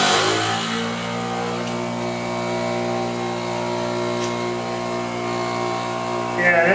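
An 8 in. Harbor Freight bench grinder with wobbling wheels spins up and runs at a steady, loud motor hum, close by with no talking.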